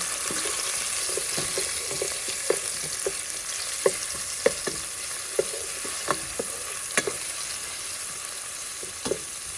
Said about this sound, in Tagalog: nilagay ko na pala yung onions at saka garlic. So, igisa natin